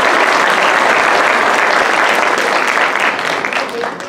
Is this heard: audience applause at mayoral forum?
yes